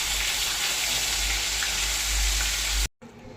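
Fish fries in a pan with a loud, even sizzling hiss and faint crackles that cuts off abruptly near the end, leaving near silence.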